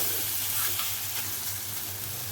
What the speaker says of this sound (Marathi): आता दोन्ही साइडने आपल्याला चांगलेसे खरपूस फ्राय करून घ्यायचे आहे।